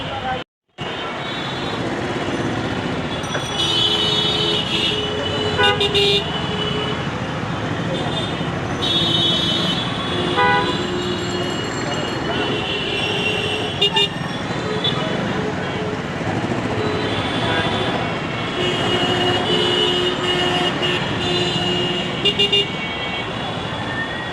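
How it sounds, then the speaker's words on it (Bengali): A jammed Dhaka road on a Saturday gives off a continuous roar of traffic, with short horn toots recurring throughout, while people talk close by over the din. "শনিবার দিন আজকে রাস্তায় মোটামুটি ভালোই জ্যাম দেখতেছি"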